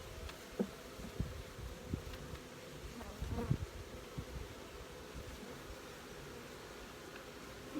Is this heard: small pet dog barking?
no